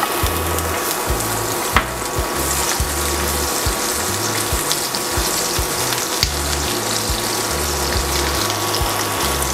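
Garlic fries in olive oil with a close, continuous sizzle, while a rhythmic low hum pulses underneath and no one speaks.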